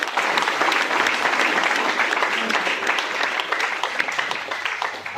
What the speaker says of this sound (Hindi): ये बात ताली बजा दी जोरदार।